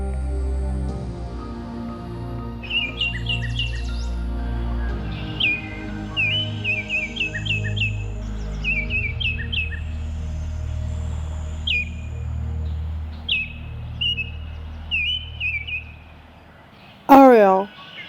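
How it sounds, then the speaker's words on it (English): A Eurasian golden oriole calls again and again in short, fluty, whistled phrases over a low, steady background drone, ending with one louder swooping note. "Oriole."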